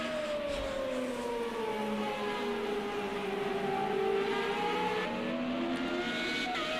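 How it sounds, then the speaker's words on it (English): Open-wheel Formula Renault 3.5 race car at the Bugatti circuit at Le Mans, its engine note rising and dipping through the gears in a continuous, moderately distant whine, with one possible missed gear. "Sounds like he might have missed a gear there."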